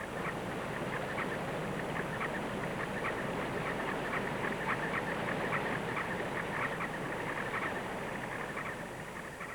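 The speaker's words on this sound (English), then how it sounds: "the birds advertise their arrival, calling and head bobbing" Harlequin ducks call over a lake as a pair arrives, a dense chorus of rapid repeated calls against a constant background rush, with no voices heard.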